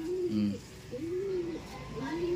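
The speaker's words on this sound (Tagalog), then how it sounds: "Ito yung mga ibang ibon naman natin dito." Soft, low cooing from a dove or pigeon repeats several times at a steady pace over a noisy background.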